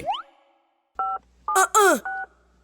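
Telephone dialing tones in a cartoon: an electronic whistle sweeps up briefly, then after a pause come four short, clear keypad beeps in quick succession, moderately loud and close.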